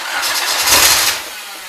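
A Nissan GA16DET engine, just fitted with a new head gasket, cranks and briefly catches, a short rough start that swells and then fades without settling into an idle, heard up close with no talking.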